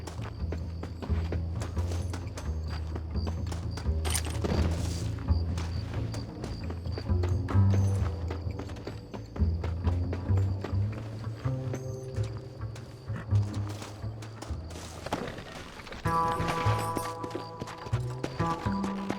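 Horses ridden at a gallop in the 2010 Western video game Red Dead Redemption, with steady clip-clop hoofbeats running throughout, a brief whinny, and a game music score underneath.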